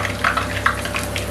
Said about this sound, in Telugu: ఆయిల్ బాగా హీట్ అయిన తర్వాత వడలు ఇలా వేసుకోవాలి.